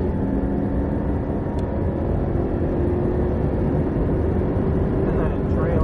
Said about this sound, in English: Full throttle to the tall cone.